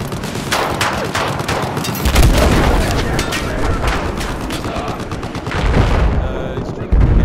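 Battlefield 4 combat on the Gulf of Oman map with a vehicle blowing up, loud dense gunfire and booming explosions running throughout, with heavy low rumbles surging near the start, middle and end.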